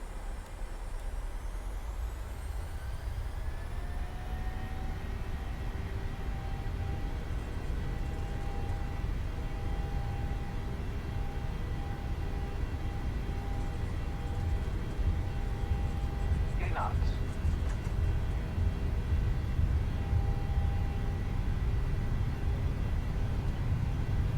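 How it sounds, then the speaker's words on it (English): Boeing 737 in a PMDG flight simulator rolling for takeoff from Oakland, with a steady broad engine roar and rising tonal whine throughout, plus a brief click partway through, while a voice talks over it. "We're cleared for takeoff, so let's go."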